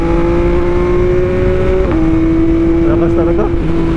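A Yamaha MT-09 motorcycle engine runs loud and close, holding a steady rumbling drone with a brief pitch shift midway and small blips of revving toward the end.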